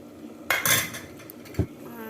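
A spoon clinks against a bowl while yogurt is added for an Assamese-style chicken curry: a sharp metallic clatter, then a brief scraping, and a final dull knock, all close and fairly quiet.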